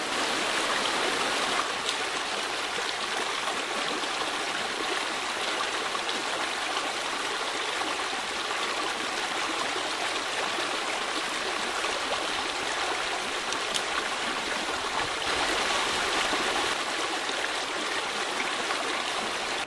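A river flowing along the base of a steep ridge at a campsite, a steady full rushing of water that fills the whole stretch evenly and carries no voices.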